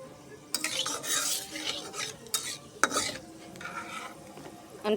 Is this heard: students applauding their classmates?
no